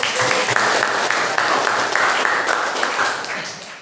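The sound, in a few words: class applauding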